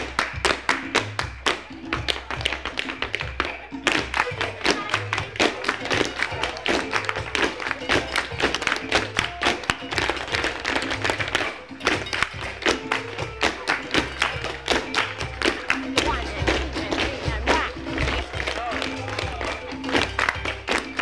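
Tap dance stamps, claps and heel drops repeat in a steady, fast rhythmic pattern across a practice drill, sharp percussive hits throughout at close range.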